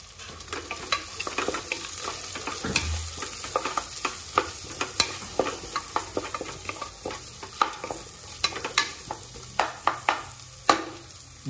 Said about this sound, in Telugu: సో ఒక నిమిషం వీటిని బాగా కలుపుకుందాం